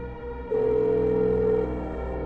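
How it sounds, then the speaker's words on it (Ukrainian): A telephone tone plays during a tense emergency call in a spoken horror story, a steady electronic beep holding for about a second over a low background hum, then cutting off. "З трясущимися руками Джек схопив телефон і набрав службу порятунку"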